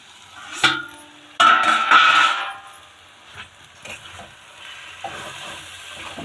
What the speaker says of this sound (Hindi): मसाला भी भून गए, मसाले पक गए हैं।